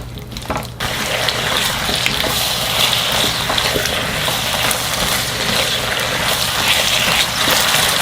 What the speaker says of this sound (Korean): 여기 감자가 푹 익도록 물 180ml 정도만 넣어주세요.